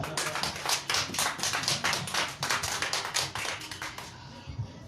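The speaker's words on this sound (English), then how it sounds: "I thought I will hear a round of applause for that." Audience applause during a church sermon, a burst of rhythmic clapping from a congregation, fairly close and steady before ending abruptly.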